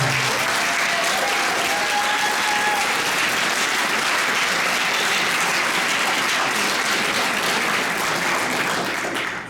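Audience applause at the 2022 Delaware Rock and Roll induction ceremony: a dense, steady wash of many hands clapping that holds at full strength for nearly ten seconds, with no talk over it, easing slightly only at the very end.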